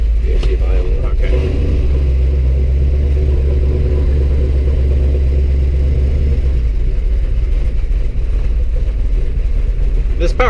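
A 1970 Chevrolet Camaro with a 427 engine rumbles loudly and steadily from inside the car while driving, a deep continuous drone filling the cabin.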